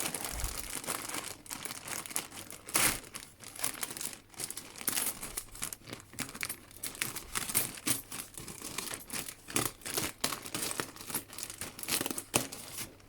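Sealed plastic packaging around a quilted crossbody bag is pulled open, giving a faint run of crinkling and tearing with irregular rustling bursts and no talk.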